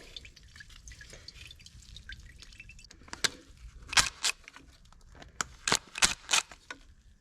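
Fuel drains from a leaking Yamaha Zuma scooter, with sharp separate drips and small metallic taps close by. They come sparse at first, then quicken into a cluster of distinct drops.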